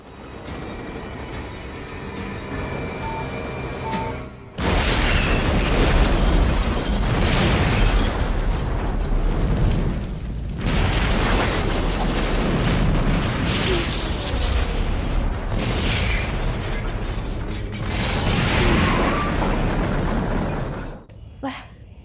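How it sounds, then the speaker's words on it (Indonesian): Movie scene of a bus exploding after crashing into an unmanned airplane: a sudden loud blast opens a long, roaring burst of rumbling debris and fire noise that keeps going before cutting off abruptly. "Bis pun meledak dengan menabrak pesawat tanpa awak"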